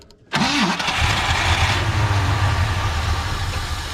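A 1968 Ford F100 pickup engine turns over briefly, then catches and roars into a loud, steady rough run that holds close by with no one talking.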